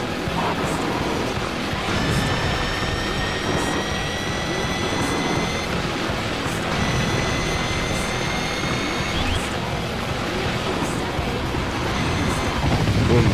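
Whining, revving buggy engines rise and fall in pitch repeatedly over a dense, constant roar, racing on ice in the PlayStation 2 game Motorstorm: Arctic Edge.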